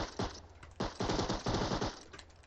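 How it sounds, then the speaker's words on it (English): SMG gunfire in the survival game Rust: rapid automatic bursts, three strings of fast crackling shots in quick succession, close and loud, with no voices. "How the fuck do you have a SMG, motherfucker?"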